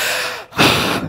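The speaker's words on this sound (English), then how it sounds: "I'm heavy breathing in this mic right now." Heavy, nervous breathing close into a microphone, a long exhale or gasp followed by a sharp inhale and another breath, loud and near with no talking.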